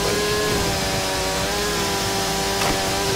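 A chainsaw cutting down trees in the StarForge video game drones with a steady, buzzing engine tone, loud and continuous, its pitch holding nearly level with a brief rise near the end.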